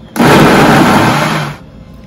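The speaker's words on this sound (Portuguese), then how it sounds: "E vamos batendo. Pra não pesar muito, esse mandioca pesa no liquidificador, né?" A blender blending cassava whirs loudly for about a second and a half, a thick grinding roar that starts abruptly and cuts off.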